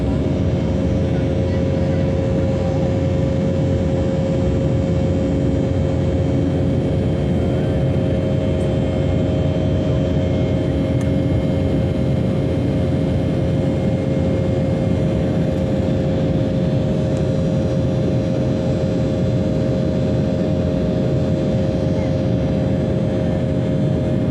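Inside an airliner in flight over Finland, the engines give a constant, dense, steady roar with a fixed hum throughout, close and unbroken.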